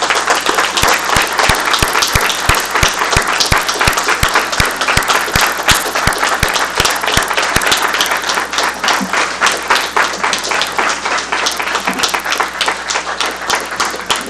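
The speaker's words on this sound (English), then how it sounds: "please stand and be recognized with a round of applause" A crowd applauds officers being recognized at a city council meeting, producing a long, steady round of clapping with sharp individual claps standing out close by over the general applause.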